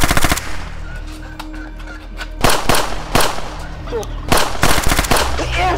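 Rapid bursts of gunfire from a shooting video game, sharp cracks in clusters with short pauses between, loud against a quieter background. Players talk and exclaim between the shots.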